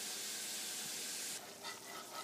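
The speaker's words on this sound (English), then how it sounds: "here's the beginning of our roux. You can hear it sizzling." Roux of flour sizzling in sausage fat, turkey fat and canola oil for a turkey gumbo, a steady close hiss that thins and softens partway through.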